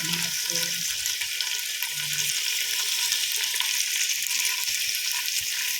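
Vegetables cooking in sauce in a pan give off a steady, dense sizzle and bubbling hiss, close and even throughout, with a brief low murmur near the start.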